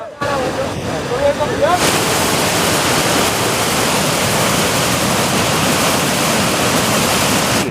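Water gushes through a breach in a Bargi dam canal and floods farm fields. A brief voice comes first, then a loud, close, continuous roar of rushing water takes over and holds steady.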